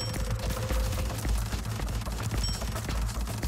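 A fully upgraded level 12 machine gun firing in the mech survivor game Project Lazarus, a dense, continuous rattle of rapid shots with heavy low thumps, steady and loud throughout with no talk.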